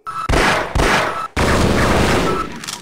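Loud, heavy shotgun blasts from the video game Half-Life: three close booming shots in quick succession, each with a long crashing decay.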